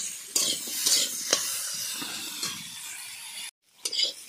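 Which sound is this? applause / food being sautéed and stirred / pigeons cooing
food being sautéed and stirred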